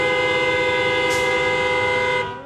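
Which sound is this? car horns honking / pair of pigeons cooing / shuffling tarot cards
car horns honking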